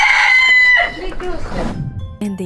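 A rooster crowing at a small farm in Penang, Malaysia: one loud, close, drawn-out crow that breaks into rough falling notes, followed by short clucking bird calls, with no talk.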